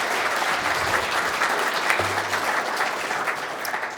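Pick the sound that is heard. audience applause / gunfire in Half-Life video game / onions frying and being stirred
audience applause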